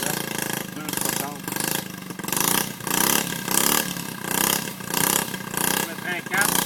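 A Honda Mini-trail motorcycle engine runs and revs in repeated surges, rising and falling roughly every half second, with voices talking over it.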